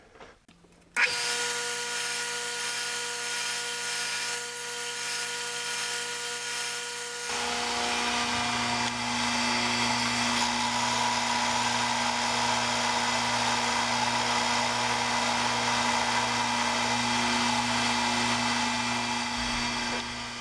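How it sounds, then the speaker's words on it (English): A belt sander runs steadily on a wooden segmented blank, a loud continuous motor whine and belt roar, deepening in tone as the wood is pressed against the belt and holding for a long stretch without talk. "Now back to the belt sander."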